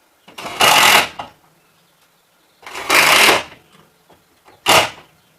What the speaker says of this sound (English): get your screw gun in